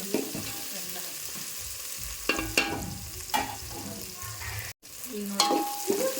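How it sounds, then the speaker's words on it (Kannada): Chopped raw mango pieces sizzle and fry in hot oil, with a steady crackling hiss and a few louder stirring scrapes of the utensil, close up and with no talking. "ಮಾವಿನಕಾಯಿ ಈಗ ಹಾಕ್ತೇವೆ ಎಣ್ಣೆಗೆ ಫ್ರೈ ಈಗ ನೋಡಿ"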